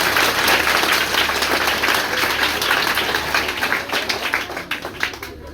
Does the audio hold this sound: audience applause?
yes